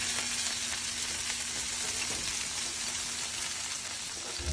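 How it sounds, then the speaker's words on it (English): Emu meat sears in a lightly oiled pan while being pressed down, giving a steady, close, bright sizzle with a faint crackle throughout and no voices. "totally press the meat down to get a nice crust on it and a nice sear on the meat"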